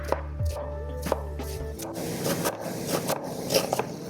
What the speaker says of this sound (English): I try to cut this onion as small as I can